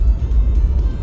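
A 2024 Jeep Wrangler Sahara with a 3.6-liter 285-horsepower V6 hums steadily as it drives, its low, continuous engine drone heard from inside the cabin without talking.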